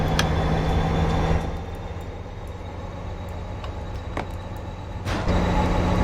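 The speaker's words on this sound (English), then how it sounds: "They are 10 loaded coal cars, so definitely fighting to get pushed uphill." Low, steady rumbling of a Union Pacific SD60M locomotive in Train Simulator 2019 pushing ten loaded coal cars uphill, with a constant engine drone and occasional metallic clanks and squeals over the continuous noise.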